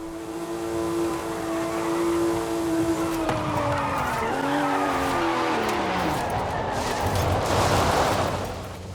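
Car tires skid and slide with long squealing tones while an engine revs underneath, a continuous loud sweep of wavering screeches in the racing game Forza Horizon 5, with no talk.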